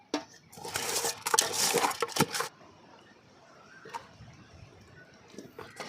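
Mullet fish being mixed by hand with turmeric, chili powder and salt in a metal dish, a burst of close clattering and scraping that stops abruptly and leaves quiet outdoor ambience.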